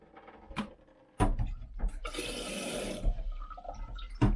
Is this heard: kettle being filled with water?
yes